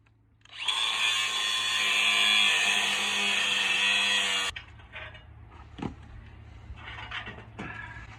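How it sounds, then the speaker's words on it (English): A loud, steady grinding whine of a grinding wheel cutting off rotten parts of a boat trailer for about four seconds, then stopping abruptly, followed by quieter clatter and knocks. "I'm just gonna cut this off with a grinding wheel."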